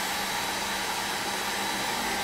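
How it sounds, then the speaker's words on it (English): A hair dryer blows steadily on whitewash paint, a constant loud whooshing hum with no change in pitch or rhythm. "We'll hit that with the hair dryer."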